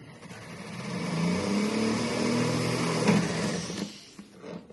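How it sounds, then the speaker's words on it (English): A jeweller's flex shaft drill whirs at high speed while drilling a hole in metal, its motor whine rising and holding steady for several seconds before tapering off, close and alone. "Turn on your flex shaft and very carefully add some pressure"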